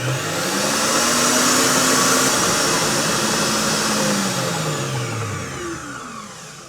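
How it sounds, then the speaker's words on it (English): An electric whisk beats golden caster sugar into cake mixture for a classic cherry cake, its motor whirring loudly and steadily up close, pitch rising and dipping as it works before easing off at the end. "Now we'll give that a whisk up to get that nice and fluffy."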